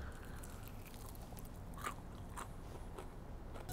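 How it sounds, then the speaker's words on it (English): Crunchy Korean fried chicken coated with toasted sesame seeds and scallions is bitten into, giving several crisp, close crackles and crunches over a low background. "Such a delightful crunch wrapped around a just delicately juicy piece of chicken"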